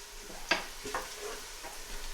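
Soft sizzling of red chili powder frying in hot oil for palak paneer, with a couple of faint clinks from a pan or utensil.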